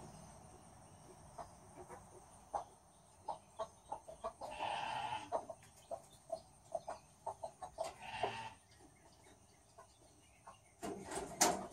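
A hen guarding her freshly hatched chicks gives soft, scattered clucks and short calls at close range, with a few louder squawks near the end over a quiet background.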